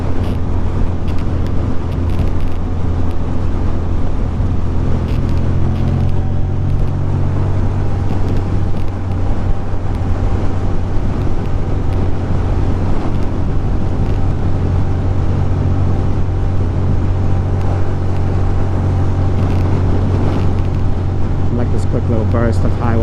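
Highway traffic rushes past from inside a moving car in New Jersey, a steady broad roar with rising and falling engine tones as vehicles, including a fast Audi, speed by; wind buffeting and occasional talk sit over the drone.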